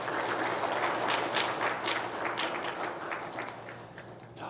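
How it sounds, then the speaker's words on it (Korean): A church congregation claps during a Sunday service to welcome a new young pastor, a continuous, even wash of many hands at moderate loudness, heard alone without speech. "네 우리 박수로 맞아주세요."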